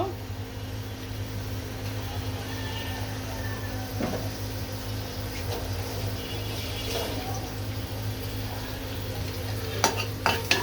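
Spices frying lightly in oil in a pan, giving a faint, steady sizzle under a low electrical hum, with a few utensil clinks near the end.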